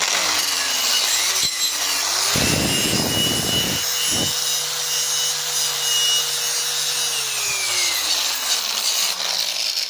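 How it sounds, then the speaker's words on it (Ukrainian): An angle grinder whining steadily with a rising and falling pitch, broken by harsh bursts of abrasive grinding against the metal surface of a Polini exhaust, close and loud. "знімлю і також болгаркою опрацюємо поверхню"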